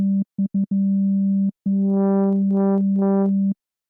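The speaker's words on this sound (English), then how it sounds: "it just kind of widens the sine wave a little" A sine tone from the Fluctus synth plugin by Nakst Audio plays as a steady low pitch in several short bursts, then holds longer while brighter, buzzier overtones pulse in and out three times before it stops.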